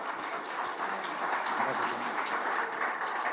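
A church congregation applauding for Christ, a steady, dense wash of clapping filling the room throughout with no break.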